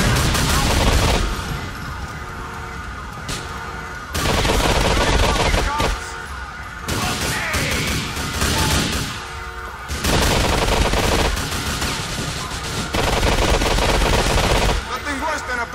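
Sustained machine-gun fire from a shootout in GTA 4: The Ballad of Gay Tony, with dense, loud, overlapping bursts that run almost without pause and only brief lulls between volleys.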